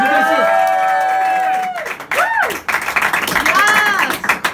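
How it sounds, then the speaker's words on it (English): A comedy club audience applauds and cheers loudly, swelling into a burst of clapping and whoops after a sustained stretch of crowd noise. A voice speaks over it. "Give it up for Paige, ladies and gentlemen."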